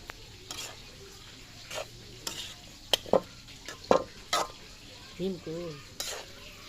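A spatula stirs noodles mixed with pre-fried eggs in a pan, scraping in short irregular strokes over a low, steady sizzle, the clatter close and distinct.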